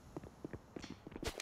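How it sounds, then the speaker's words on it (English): Soft, quick footsteps patter irregularly as a group of players moves in toward the B site in CS:GO, quiet and fairly close, with no talking. "The pit patter of their footsteps as the herd comes in towards the B site."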